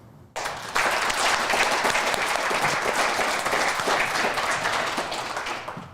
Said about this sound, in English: I think all the schools, you should give yourselves a round of applause